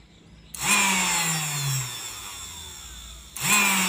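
A homemade mini drill switched on by a small push button cuts through a 4.1 mm nail, its high motor whine rising then sagging under load for about a second and a half before stopping and restarting.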